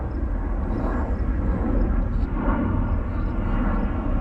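Airplane passing high overhead above an off-grid homestead, a broad, steady low rumble that holds throughout at moderate distance, with no talk over it.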